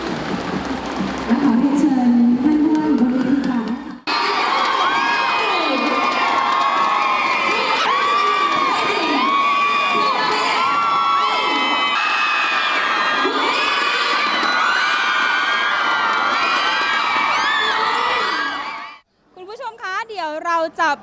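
Large crowd at a northeastern Thailand education competition cheering loudly and continuously for six competing teams, with children's shouts and whoops layered in, sustained for most of the stretch before cutting out abruptly near the end.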